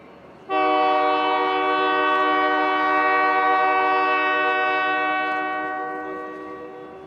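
A loud, sustained train horn blares steadily for several seconds over a low rumble as a train led by Unit 4884 heads east into the City of Industry, slowly fading near the end.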